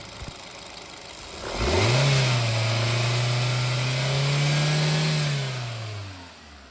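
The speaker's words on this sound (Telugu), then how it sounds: "ఒకసారి ఇంజిన్ స్టార్ట్ చేసి కూడా మీకు ఇంజిన్ నాయిస్ కూడా ఎలా ఉందన్నది మీకు వీడియోలో అబ్జర్వ్ చేసి నేను చూపిస్తాను" A used petrol/CNG car engine cranks and catches, then runs at a steady mid-pitched idle with a slight rise in revs before settling, close and fairly loud.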